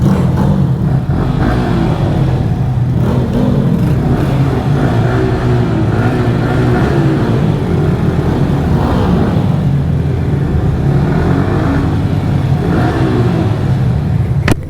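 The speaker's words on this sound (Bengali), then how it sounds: "আপনাদেরকে একটু এক্সস্টের সাউন্ড শোনাতে পারলাম" Yamaha R15 motorcycle exhaust revving loud and close, a steady engine drone with repeated swells in throttle lasting throughout, no talking.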